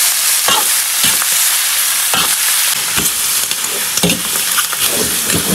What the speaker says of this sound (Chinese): 炒香下入羊杂。